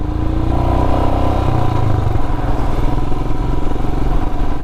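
Rental motorcycle engine on the mountain road to Khardung La pass near Leh, a loud, close, continuous engine drone with rattling clatter and slight shifts in pitch as it rides.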